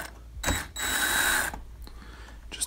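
Small screws are backed out while a GL4000 mixing console is taken apart: close, short metallic ratcheting and grinding bursts with brief pauses between, and no talking.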